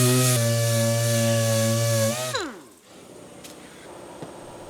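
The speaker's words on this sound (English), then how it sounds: "now I'm grinding away at the paint to give me another bit of metal so I can weld the earth to it" A drill with a wire wheel stripping paint off bare car metal on a neglected Vauxhall Calibra: a loud, steady motor whine nearby that winds down and stops after about two seconds, leaving a quiet workshop.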